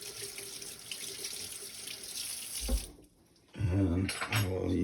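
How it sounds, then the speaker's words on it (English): Hands are washed under a running kitchen tap, water splashing steadily into the sink for about three seconds before stopping, then a voice speaks nearby. "I'll have to wash my hands."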